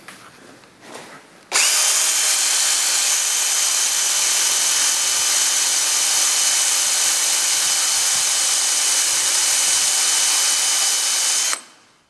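A power drill boring during a screw extractor test starts abruptly and runs at a loud, steady whine for about ten seconds before cutting off, with faint handling noise just before.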